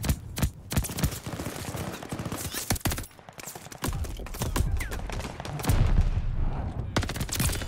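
Rapid gunfire from an AS44 rifle in Call of Duty Vanguard multiplayer, with dense strings of loud, close shots in quick bursts and brief pauses between them.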